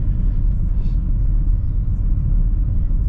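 BMW 320i engine running on a rural dirt road, heard as a steady, loud low rumble from inside the car with a faint hint of revving, no talking.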